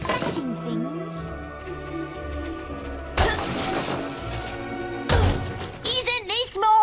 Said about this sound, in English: Would you prefer to be smashing things?